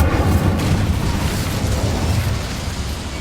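An Incendio fire spell cast in the Hogwarts Legacy video game gives a loud, sustained roaring burst of flame with a deep rumbling body that holds steady for several seconds, with no talking.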